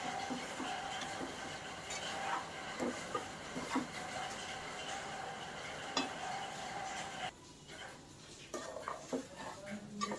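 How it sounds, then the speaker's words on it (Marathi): Semolina heated and stirred in a pan for rava ladoo, heard as quiet scraping and stirring with intermittent clicks and knocks of a spoon against the pan, fairly faint, with a brief lull toward the end and no talk. "थोडा वेळ आपण हे गरम करून घेऊया रवा।"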